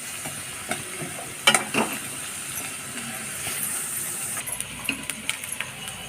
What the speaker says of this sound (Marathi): मध्ये उडदाची डाळ टाकून घ्यायची। लालसर रंगावरती परतली गेली पाहिजे।